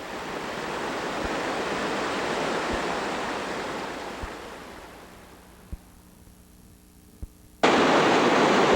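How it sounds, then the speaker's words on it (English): Rapids on the Cheat River rush in a steady broadband roar that swells loud for the first few seconds and then eases somewhat, with a few sharp knocks toward the end and a sudden return of loud roaring noise. "One of our most beautiful rapids on the Cheat."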